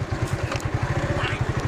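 A motorcycle rides through a village, its engine throbbing close by in quick, even low pulses, with a voice heard faintly over it.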